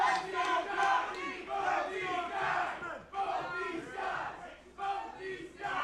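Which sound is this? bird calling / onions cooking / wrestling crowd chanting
wrestling crowd chanting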